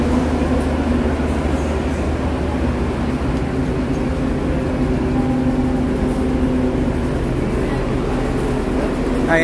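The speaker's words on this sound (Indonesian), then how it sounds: "sekarang saya sudah berada di kereta api komuter" Continuous low rumble and rattle inside a moving Indonesian commuter train, steady and close throughout with a faint hum of passengers' voices underneath.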